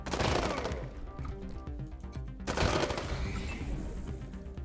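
Rapid gunfire rattles through turn-based combat in Wasteland 3, with dense bursts of shots from several weapons, a lull in the middle, then a fresh loud volley, no talk over it.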